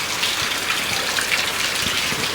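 Steady heavy rain pours down during a downpour, a dense continuous hiss of drops drumming on surfaces with occasional heavier splashes, close and uninterrupted.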